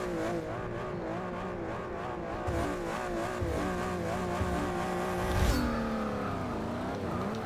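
A Shelby GT350 engine in the Forza 6 racing game revs hard through rising gear sweeps, dipping at each shift and climbing again, loud and close, with a brief tire scrub midway and no talk.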